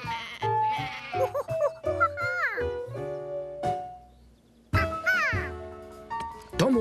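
Several wavering bleats of a sheep running away come in a close series, with short pauses between, then a louder final burst of bleating.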